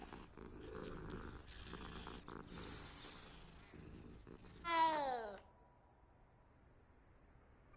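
A cat in the Hogwarts Legacy video game purrs and gives a short rising meow while being petted, heard close over a busy background of game ambience and music that then drops away.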